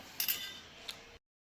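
A few bright metallic clinks of spoons being gathered up, two quick close taps followed by a lighter one, over a faint room hum before cutting to silence.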